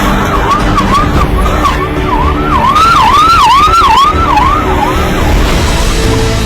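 An ambulance pilot vehicle clearing traffic for a patient sounds a loud, continuous wailing siren that rises and falls in repeated sweeps over steady road and engine noise.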